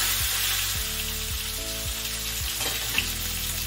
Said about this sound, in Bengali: এবারে হিং দিচ্ছি, একটু বেশি পরিমাণে দেবেন হিংটা, দিয়ে এই আলুটা ঢেলে দিচ্ছি